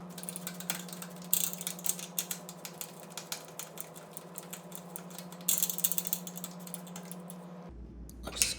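A screwdriver tightens screws on a MAAX Cyrene corner shower kit's glass door frame, giving faint, intermittent clicking and ratcheting bursts over a steady low hum.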